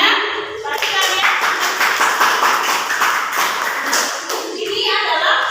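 A Grade 7 Islamic school class claps for two classmates who answered correctly, a quick, rhythmic round of close, sharp hand claps from the students, with children's voices and chatter mixed in.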